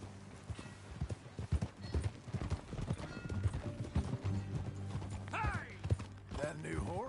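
Steady clip-clop of hooves plodding along at an even pace in a video game, with a couple of horse whinnies near the end and faint background sounds.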